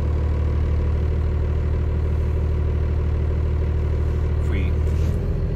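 A big rig truck engine idles at about 750 RPM while its alternator runs grids, a steady loud low rumble that holds even throughout, with a brief higher whine near the end.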